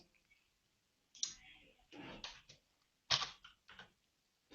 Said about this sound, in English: start typing a message